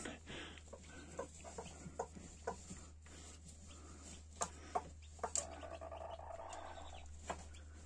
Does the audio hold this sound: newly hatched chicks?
yes